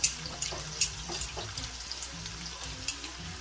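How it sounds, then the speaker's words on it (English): Chicken breast strips fry in hot oil for a chop suey, giving a steady close sizzle with scattered sharp pops and crackles and faint clinks, with no talk. "I'm just going to be placing my chicken breast strips in it so I can have them fry"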